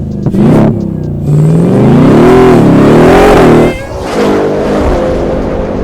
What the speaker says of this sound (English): let's listen to VelociRaptor 1000.